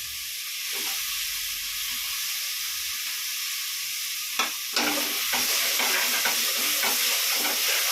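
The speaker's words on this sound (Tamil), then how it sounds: "இஞ்சி பூண்டு வெங்காயம் தக்காளியாக வதங்கிடுச்சுப்பா" Ginger, garlic, onion and tomato sauté in hot oil for a prawn biryani. A loud, continuous close-up sizzle and hiss fills the clip, with brief stirring scrapes toward the end.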